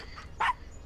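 A single short dog bark from the video game Gabriel Knight Remastered, a sharp yip heard alone over quiet background.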